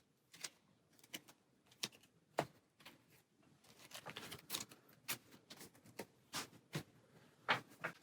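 Soft, quiet board game card shuffling: scattered light riffles and flicks in irregular bursts, close by with no talking.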